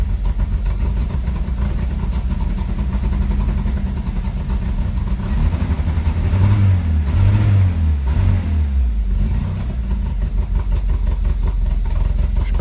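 A Peugeot 205 Roland Garros engine runs steadily with a low rumbling idle and a faint irregular puffing from the exhaust, close and continuous, briefly rising in pitch mid-run.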